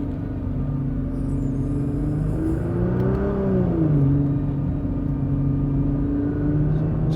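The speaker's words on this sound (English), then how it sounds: "Just letting you listen to that motor." A 2020 Nissan GT-R 50th Anniversary engine hums steadily from inside the car while driving, a smooth mid-low drone that rises briefly in pitch around the middle and then settles, moderately loud with no talking.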